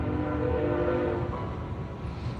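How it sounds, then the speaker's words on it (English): The Silverton to Durango train passes a city home. A low, steady rolling rumble carries a sustained horn tone, somewhat distant and moderately quiet. "Ironically, can you hear the train going by my new city home?"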